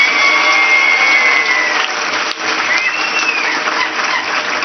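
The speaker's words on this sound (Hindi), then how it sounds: "सभा एकजुट होकर एक मुट्ठी से तालियां बजाए" A large crowd at a political rally in Sangli applauds together, a loud, sustained, muffled roar of clapping with faint whistles drifting over it and a brief dip midway.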